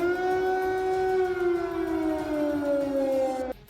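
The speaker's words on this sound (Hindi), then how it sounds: "वहां के कई शहरों में खतरे के सायरन भी सुनाई दिए थे।" Air raid danger siren sounding in a Ukrainian city, a loud steady wailing tone that slowly sinks in pitch before cutting off abruptly near the end.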